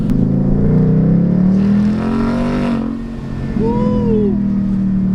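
A Ford F250 pickup with a 6.7 Powerstroke diesel and a new oversized turbo accelerates hard, its loud engine drone climbing steadily, dipping at a gear change, then resuming with a rising whistle.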